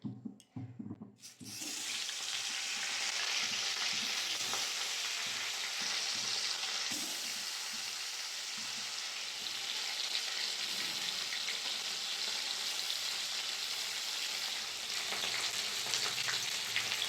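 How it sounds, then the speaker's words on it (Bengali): Khoira fish pieces drop into hot mustard oil in a wok and burst into loud, continuous frying sizzle, preceded by a few brief clatters, with no voices. "মাছগুলো একটা একটা করে দিয়ে দেবো তেলের মধ্যে।"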